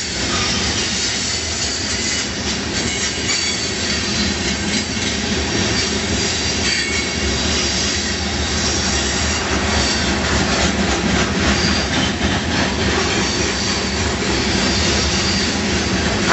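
A long freight train rumbles past close by, steady and loud, with metallic wheel squeals and rhythmic clatter throughout.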